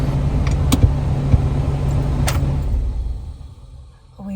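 A car drives home with its air conditioning running, a steady low engine and road hum with a couple of faint clicks, fading away toward the end before a small bump.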